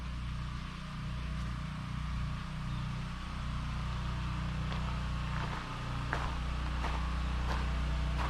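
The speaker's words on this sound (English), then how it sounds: "You can hear the generators running right now." Steady low rumble of generators droning in the background, with faint clicks and distant knocks scattered over the constant engine hum.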